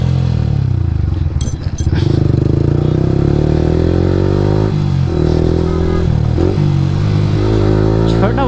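A Yamaha R15 V3 fitted with an Akrapovic R9 exhaust rides hard on a morning road: a loud, close, continuous engine drone that rises and falls in pitch through gear changes, with a brief dip early on and revving toward the end.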